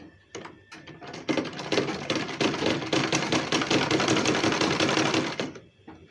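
A sewing machine stitches aso oke fabric for a gele in one steady, rapid run of about four seconds, its needle rattling close and loud before winding down to silence.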